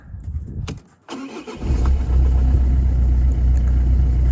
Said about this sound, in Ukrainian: заведемо автомобіль, почуємо, як працює двигун